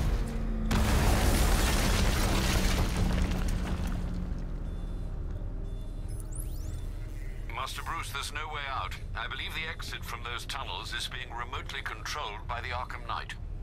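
Bombs go off in the Batman Arkham Knight video game: a loud, sustained blast rumbles for several seconds and slowly fades, then a quieter stretch of mechanical game sounds follows.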